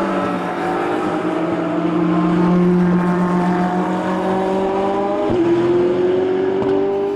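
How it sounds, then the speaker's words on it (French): Race cars, a Porsche and a Ferrari 458, drive at the Dijon-Prenois circuit with a loud, sustained engine drone whose pitch climbs steadily over the stretch, with no talk. "Van de Vostin, leader, lui, sur sa Porsche numéro 1, mais désormais poursuivi par la Ferrari 458 numéro 40"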